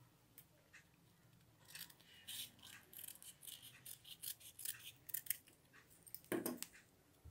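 Scissors snipping out a paper leaf for an art and craft lesson, a series of close, quiet crisp cuts in uneven rhythm, with a final louder snip near the end.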